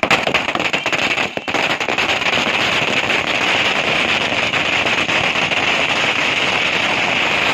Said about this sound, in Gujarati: ફટાકડા ફોડી ખુશી વ્યક્ત કરી હતી